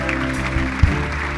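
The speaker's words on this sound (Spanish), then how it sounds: "Dale un aplauso fuerte al Señor." A church congregation applauds during a sermon, a dense steady clapping that fills the room, fairly loud and continuous with one sharper clap standing out.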